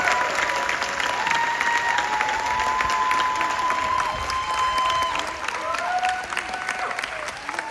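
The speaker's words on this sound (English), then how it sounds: "So a big round of applause once again." An audience at a ceremony gives a long round of applause, dense and even at moderate distance, with faint voices and whistle-like calls drifting over the clapping before it eases slightly near the end.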